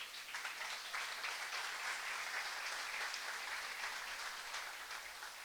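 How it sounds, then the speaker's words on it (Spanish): A church congregation at a Sunday service claps for the Lord in steady, dense applause that stays even and fairly faint throughout, with no voices over it. "Dele un aplauso al Señor"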